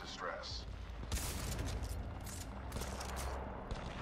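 Gunfire in Titanfall 2 comes as rapid bursts of shots against robots, with mechanical clatter and rumble running underneath, faint overall.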